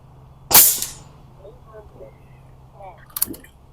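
A SnowPeak P35 air pistol fires an H&N hunting pellet, a single sharp close crack followed by quiet handling, then a fainter knock that may be the pellet striking its target.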